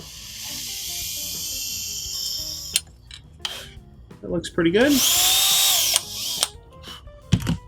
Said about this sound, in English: I'm gonna drill this from this side now.